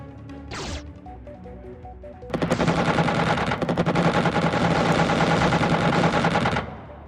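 Rapid missile and gunfire bursts in a Xenonauts air combat against a ship, a dense loud barrage running continuously for about four seconds after a brief whoosh and quieter tones.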